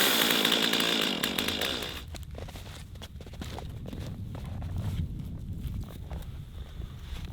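A chainsaw on full choke, used for felling a tree, roars loudly for about two seconds, then drops away, leaving quieter rustling and shuffling footsteps outdoors.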